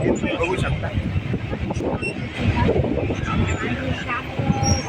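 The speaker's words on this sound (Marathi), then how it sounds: "फास्ट ट्रेनने आपण CSTला चाललो आहे" A fast Mumbai local train bound for CST rumbles and rattles steadily throughout, a dense continuous roar from inside the carriage with faint voices mixed in.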